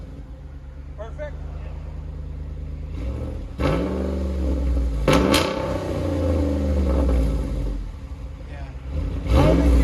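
A 2017 Ram 1500 with a 5.7L V8 and a muffler-delete exhaust idles with a deep rumble, then revs in several loud throaty bursts that rise and fall, with a short spoken word near the start.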